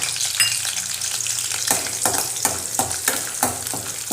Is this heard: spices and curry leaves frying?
yes